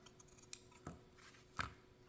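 Fabric is cut with scissors in two or three quiet, crisp snips, separated by brief pauses in an otherwise hushed room.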